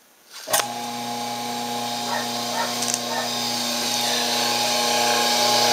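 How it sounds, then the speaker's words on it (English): A Doringer D350 metal-cutting cold saw starts up with a sharp click and then runs at low speed, its motor and toothed blade giving a steady, loud, close hum with a high whine that builds slightly. "Got a lot of teeth on it, but again, it runs, cold saws run at low RPM."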